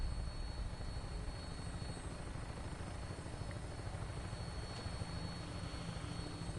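A Brotherhood of Steel aircraft lifts off in Fallout 4, its rotors and engines producing a steady, dense rumbling thrum at a constant level throughout, with no voices over it.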